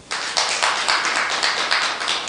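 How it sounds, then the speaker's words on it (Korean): Several people clap together in a steady patter of overlapping hand claps, brief and fairly close, with no voices. "박수 한번 쳐요"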